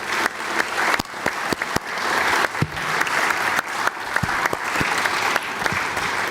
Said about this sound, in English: please, if you could, again, applaud for our guest